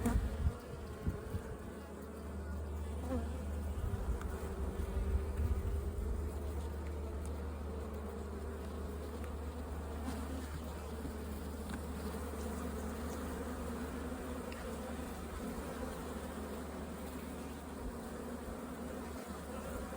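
Honey bees swarm around an opened hive colony, a dense continuous buzz that stays steady throughout at moderate level, with a few soft knocks early on.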